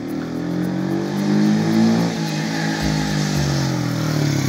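A Shineray Jet 50cc motorbike engine running steadily close by while ridden, a buzzing mid-pitched drone that swells slightly then settles, with no talk.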